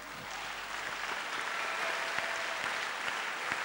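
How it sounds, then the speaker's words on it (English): A large audience claps continuously, a broad even roar of applause heard from a moderate distance with no one speaking over it. "I thought you'd be clapping for me."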